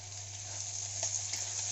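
Onion, cumin, potatoes and peas frying together in a pan for Bangladeshi fried rice, a steady close sizzle with faint crackles and a low hum underneath, no talking.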